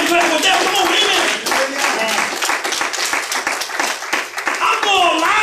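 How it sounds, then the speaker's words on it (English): A church congregation claps during a sermon, a dense, loud wash of hand clapping that runs steadily throughout, mixed with voices and some shouting from the crowd. "I need a better hand clap with that."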